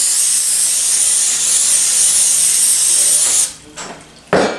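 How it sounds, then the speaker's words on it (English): A long continuous hiss of an olive or vegetable oil spray can coating chicken nuggets, loud and close, then a pause and a couple of shorter bursts at the end. "we'll spray them with the olive oil spray or vegetable oil spray"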